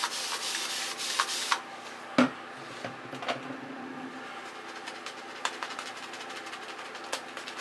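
Strokes of a Wardonia safety razor scraping across stubble, close and crisp, come as a run of quick rasps, then a single sharp knock and sparser scrapes that follow.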